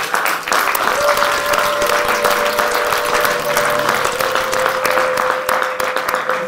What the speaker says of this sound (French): Les acclamations, c'est pour te souhaiter.